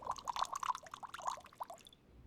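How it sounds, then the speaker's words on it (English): Sherry poured from a bottle into several glasses at a Christmas gathering, a short series of bright liquid splashes and trickles, close and clear, with a faint tail at the end. "Nero, you pour the sherry."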